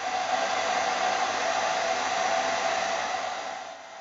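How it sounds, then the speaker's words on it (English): A hair dryer blows steadily at close range, drying plaster patching on a gyprock wall repair, a constant broad whoosh that tapers off slightly near the end. "I prefer to use a hairdryer and just dry it off quick."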